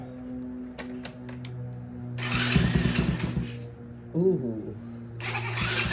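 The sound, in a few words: 110cc mini ATV engine starting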